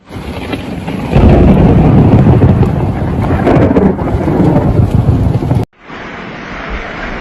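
Typhoon Kajiki's violent storm lashing Cua Lo, a coastal tourism town in Nghe An province, Vietnam: loud, dense roaring rain and wind with thunder rumbling throughout, then an abrupt cut to a quieter, steadier patter of rain.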